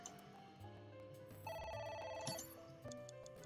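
An electronic telephone ring sounds once in the middle, a bright repeating trill over a low, steady background.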